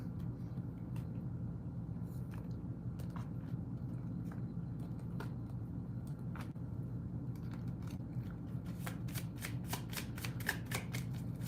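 Tarot cards being shuffled, a soft steady riffling that runs throughout and turns into a quicker, crisper burst of snaps toward the end, close and alone with no talk.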